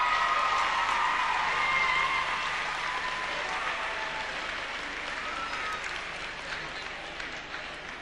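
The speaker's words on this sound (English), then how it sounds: "Give them a big round of applause." Audience at the Scór na nÓg All Ireland Final applauds competition winners from Bornacoola, County Leitrim, a sustained hall-filling clapping with faint cheers that slowly tapers off, with a voice briefly audible underneath.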